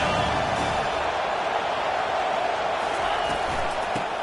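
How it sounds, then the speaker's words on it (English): A large crowd roars at an LSU Tigers college football game on third down, a dense continuous wall of cheering in a stadium, loud and sustained with no breaks. "Third down, and this crowd is tearing the lid off this place"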